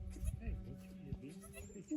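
A small, delicate first-time mother goat bleats during kidding as she delivers triplets, faint wavering calls under low voices nearby.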